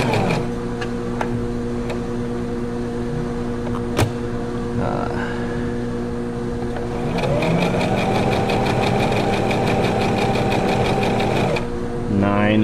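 A Brother XL3750 sewing machine runs through its stitch patterns. A steady mechanical whir and rapid needle chatter come first, then a louder, faster stretch of stitching that lasts several seconds before stopping.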